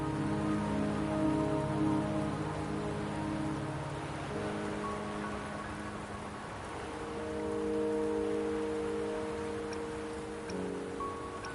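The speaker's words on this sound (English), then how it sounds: "Don't worry, the rain won't last much longer." Steady rain patters on surfaces in the video game Wuthering Waves, a constant, even hiss of drops heard alongside soft sustained musical tones.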